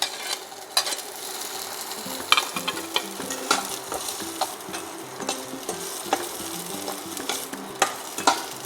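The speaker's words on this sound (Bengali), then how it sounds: "হালকা একটু নেড়ে নেব পনিরগুলো" Paneer pieces fry in a spoonful of oil while being turned, giving a soft continuous sizzle punctuated by repeated light scrapes and taps of a utensil against the pan, without any talking.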